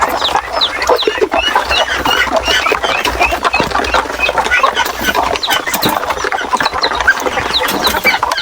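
A native chicken hen clucking on a small mini farm, with close, repeated clucks and chatter mixed with other fowl noise over steady barnyard background.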